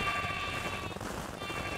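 Sheep bleating in Craftopia near a wool generator, a sustained nasal bleat over a soft rain-like hiss, fairly close and alone without talk.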